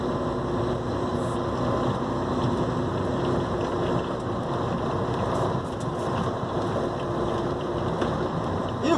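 A Mercedes Axor 3344 truck rolls downhill at low revs, its engine a steady droning hum with wind noise, continuous and moderately loud from inside the cab, with no one speaking.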